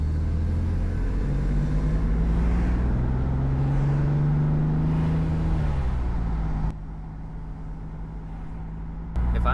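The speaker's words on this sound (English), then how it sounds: "Doing manual rev matching on this thing is really helpful to keep the downshift experience smooth when you're approaching traffic lights." BMW E46 M3 with SMG gearbox driving through town, engine drone rising and falling steadily with a sharp drop near the end as it downshifts with rev-matching, loud and close throughout.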